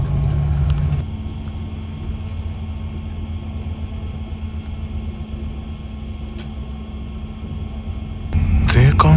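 A long-distance bus crossing overland into Ukraine drives onward with a steady, loud low engine and road rumble that carries on without a break, and a brief clatter near the end.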